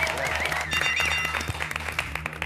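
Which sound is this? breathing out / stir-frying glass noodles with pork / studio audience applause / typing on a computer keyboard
studio audience applause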